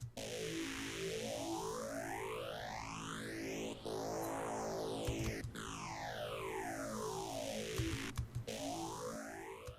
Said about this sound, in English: Here is just the distortion with the phaser.